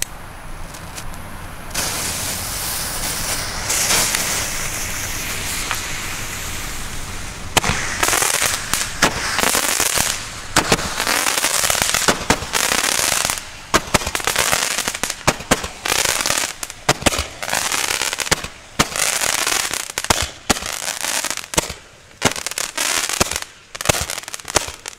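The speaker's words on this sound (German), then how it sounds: "Noch ein römisches Licht von Leslie, diesmal etwas dünner und mit etwas anderem Effekt. Hier zünden wir gleich mal zwei gleichzeitig." Two Roman candle fireworks lit at once on a street during New Year's Eve celebrations, starting with a fizzing hiss, then a long run of loud, sharp, crackling bursts and pops firing in quick irregular succession.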